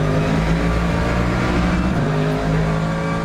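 A 2025 McLaren GT3 race car in a sim racing video game launches with a loud, continuous engine roar that holds steady, with other cars' engine noise mixed in.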